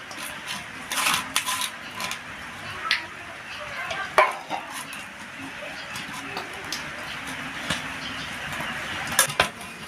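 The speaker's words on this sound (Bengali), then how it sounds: "দুধ দিয়ে এখন ডো বানিয়ে নেওয়া হবে।" Ghee and milk being worked by hand into a dough of crushed bread crumbs, giving soft, irregular squishing and patting sounds with occasional light clicks, close and moderately quiet, with no talk.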